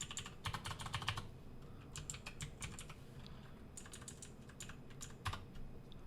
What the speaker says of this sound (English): If I could type right now, that'd be great.